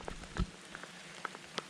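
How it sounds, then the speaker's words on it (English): Rain falling on a boat during hurricane preparation, a faint steady patter with scattered distinct drops tapping on surfaces nearby. "the rain is kind of spoiling our morning plans"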